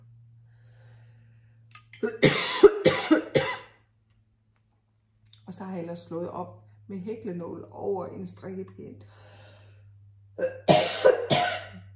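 Several harsh, close coughs come in clusters during a knitting demonstration, separated by stretches of calm speech from the same person over a low steady hum.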